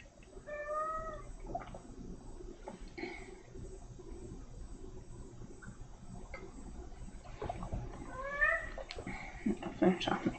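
A cat meows near an open window, with a few short, faint meows scattered across a quiet indoor room and soft background noise between them.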